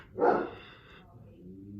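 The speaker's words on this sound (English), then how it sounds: "that's my dog." A single short dog bark, fairly close, followed by a faint fading tone and low background noise.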